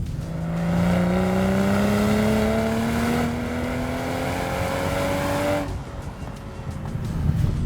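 A BMW M340i engine revs up loudly with a rising, throaty sports exhaust note, holding strong before easing off, heard close from inside the car.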